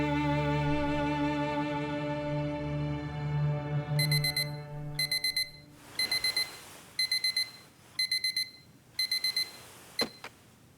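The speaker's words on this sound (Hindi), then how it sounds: "तो क्या मैं रोजाना इस तरह उठकर अलार्म बंद करूंगी?" An alarm clock rings at a bedside, first a steady sustained tone, then a run of loud, repeated rapid beeping bursts in even rhythm, with no one speaking.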